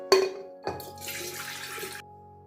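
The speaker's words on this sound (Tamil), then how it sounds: "இப்போ இந்த தண்ணியை நாங்கள் வீணாக்காமல் இந்த தண்ணியையே விட்டு விட்டு நாங்கள் அரைச்சி" Soaking water from urad dal, fenugreek and rice is poured into a grinder, with a couple of sharp knocks at the start and then a short splashing pour for about a second before it stops.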